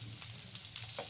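Fish fried until crisp in a flat pan sizzles softly and steadily, with a few faint spatters as the pieces are turned.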